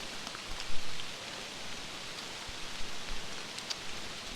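Heavy rain falling outdoors, a dense, continuous hiss of drops hitting surfaces nearby, with a few louder splashes and patters scattered through the steady wash.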